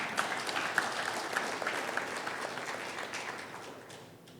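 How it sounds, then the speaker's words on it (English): An audience at a University of Johannesburg conference session on Africa–China cooperation applauds: steady, fairly distant clapping from a seated crowd that slowly fades over a few seconds. "I think you can give us a round of applause."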